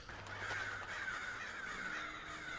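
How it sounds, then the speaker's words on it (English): Crows caw steadily in a bleak snowy outdoor scene from The Last of Us, harsh repeated calls forming a dense, continuous chorus at moderate distance with no talking. "The birds are warning you that you're being dumb."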